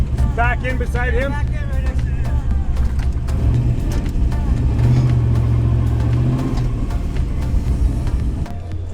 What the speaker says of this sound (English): And they're lining up all the cars in here.